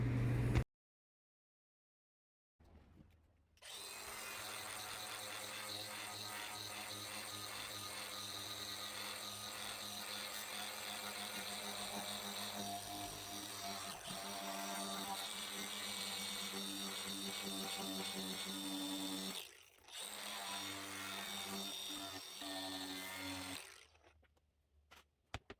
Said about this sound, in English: what you saw in that last clip there of me using an angle grinder, what I had on that was a easy strip nylon disc for removing paint